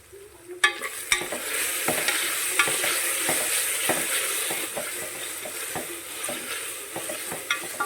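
Chopped ginger and garlic frying in a pan for a vegetable kurma, a continuous close sizzle broken by frequent sharp clicks and scrapes of a spoon stirring against the metal.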